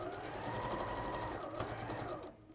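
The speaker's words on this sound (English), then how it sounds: "So just a little back stitch there." Sewing machine running a short back stitch while quilting, a continuous close whirring motor hum that cuts off near the end.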